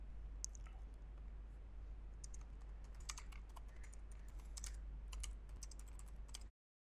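Typing on a computer keyboard, quick irregular clusters of faint clicks and key taps at close range, continuing for several seconds over a low hum before stopping abruptly.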